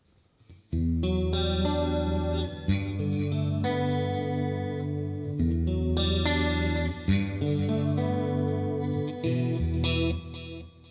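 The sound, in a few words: guitar chorus effect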